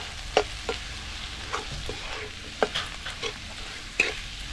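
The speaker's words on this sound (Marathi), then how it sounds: "हे मसाले असे चांगले परतून घ्यायचे" Spices sautéing in a pan for horse gram zunka — garam masala, turmeric and homemade red chilli masala — with a steady close sizzle broken by a few sharp spoon scrapes and stirring clicks, no voices.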